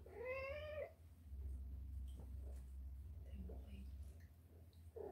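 A cat gives one clear, rising meow close by, followed by quieter background sounds and a faint second call at the end.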